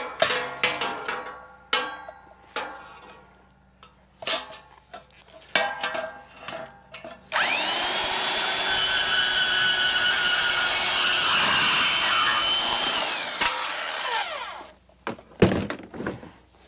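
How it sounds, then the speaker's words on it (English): Bandsaw cutting through a pole in a workshop during a dry dock upgrade: clunks and handling knocks, then a continuous whining, hissing cut lasting about six seconds, followed by more thuds and clatter. "So let's go get in the bandsaw and get busy with that."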